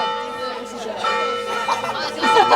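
Church bells ring out during a wedding speech at a reception, a steady clangour of overlapping chimes sounding loud and close while chatter and voices carry on underneath.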